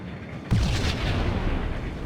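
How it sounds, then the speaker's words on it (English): A grenade explosion in the game Max Payne: a sudden loud blast that hits at once and then settles into a sustained, dense rumble with debris-like crackle that carries on to the end. "We're gonna grenade this."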